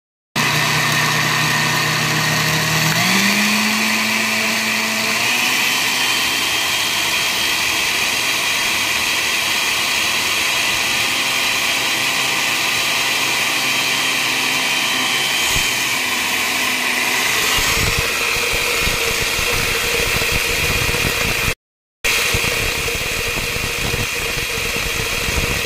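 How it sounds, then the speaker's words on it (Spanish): An electric kitchen blender whirs loudly up close as it blends a whole raw egg with its shell, a steady motor drone that shifts pitch partway through, broken by a brief cut near the end. "Y aquí lo vamos a poner en nuestra licuadora, chas, y vamos a empezar a licuarlo."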